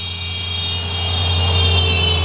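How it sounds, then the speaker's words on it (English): A mini truck rolls past nearby, its low steady engine drone and tyre noise holding loud and even throughout, with no voices. "Mini truck."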